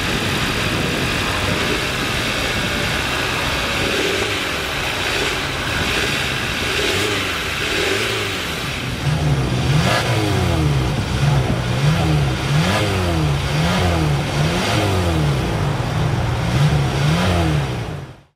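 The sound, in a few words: 2022 Hyundai Tucson 2.5 liter 4-cylinder engine running, revving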